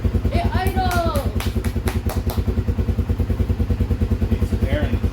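A Honda ATV engine idles loud and close, its steady rapid pulses running evenly throughout, with a brief voice over it near the start.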